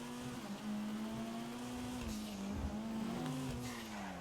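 Vapid Flash GT sports car driving in GTA 5 Online, its engine holding a steady, buzzing drone that rises and dips slightly with the throttle, with faint tire and road noise underneath and no talk.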